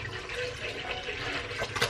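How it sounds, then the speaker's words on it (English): A half gallon of whole milk pours steadily into a container in a home kitchen, a continuous soft liquid splash that keeps going throughout at low volume. "So I just have a half gallon of milk. Pour that all in."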